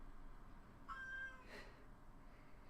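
A single short, faint meow from a feisty house cat, brief and high-pitched against quiet room noise.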